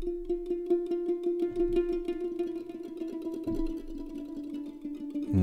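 Sustained mandolin-based instrument layer, Speeding Up Slowing Down, from Komplete 15, a soft tremolo of repeated plucked notes that quicken and slow over a held pitch, heard alone.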